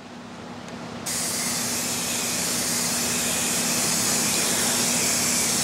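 An airbrush sprays resoline onto a leather holster, a loud steady hiss that starts abruptly after a quieter hum and continues evenly.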